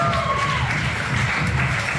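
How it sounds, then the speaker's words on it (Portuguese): Audience applause for the bar, kitchen and reception staff at a Portuguese variety show, a steady dense wash of clapping and crowd noise holding at even loudness throughout. "quero um grande aplauso para eles"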